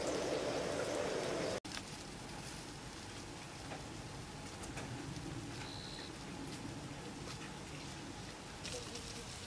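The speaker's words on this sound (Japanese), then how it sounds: "ちょうど雨も止んで、" Steady rain patters at a campsite at night. A close, even hiss holds throughout, with a sharp click near the start.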